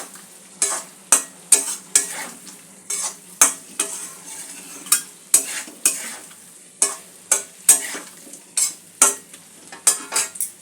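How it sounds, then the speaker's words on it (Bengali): A spatula stirs potato and cauliflower into frying masala for a Bengali cauliflower curry: a steady run of crisp scraping strokes, about two per second, over a soft constant sizzle, close and fairly loud. "মশলার সঙ্গে আলু আর কপিটা মিশিয়ে নেব।"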